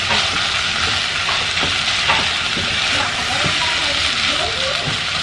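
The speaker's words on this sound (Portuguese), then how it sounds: "Eu vou deixar fritar aqui, junto mais um pouquinho. Essa cebola murchar e dar uma fritadinha." Onion fries in a pan with a steady, close hiss and crackle that continues without a break through the clip, and occasional faint stirring scrapes can be heard underneath.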